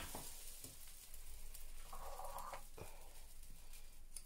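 Dough for skillet fritters frying in an oiled pan gives off a soft, steady sizzle close by, with occasional light scraping and stirring sounds and no talking.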